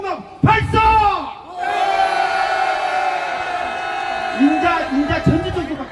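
A crowd at an impeachment rally in Gokseong raises a sustained roaring shout, many voices joined in one long cry after an opening amplified call, with shouting bursts near the end.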